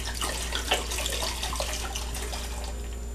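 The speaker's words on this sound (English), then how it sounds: "I'm going to add an entire bottle of Malbec." A full bottle of cheap Argentine Malbec red wine pours steadily into a cooking pot of rabbit and pasta, a continuous splashing liquid stream with gurgling bursts, close and fairly loud, no talking.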